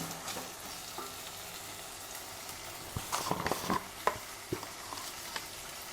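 Chopped medium tomatoes fry and sizzle in a pan while being stirred, a steady background sizzle broken by several sharp scraping clatters of the spoon in the second half; no voices.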